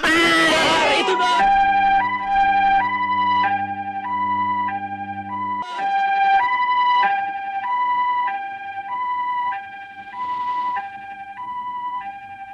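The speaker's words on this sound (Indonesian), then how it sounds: "Bawa kue pakai ambulans" An ambulance siren from a 1976 Indonesian comedy film wails in a loud two-tone hi-lo pattern repeating steadily, following a brief burst of noise and a low sustained tone at the start.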